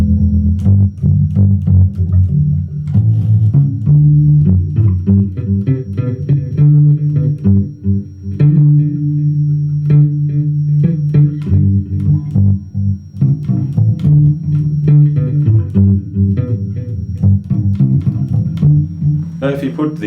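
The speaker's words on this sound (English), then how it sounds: "let's put a delay there." Bass guitar with a delay effect, played through a Yamaha THR10 amp, runs as a steady groove of low notes with repeating echoes trailing behind, loud and close throughout.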